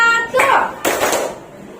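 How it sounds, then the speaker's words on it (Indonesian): A class of children clap on a teacher's command in short, sharp bursts of hand claps. The claps come right after a voice in a classroom. "Sekarang Ibu mau kamu tepuk 1,"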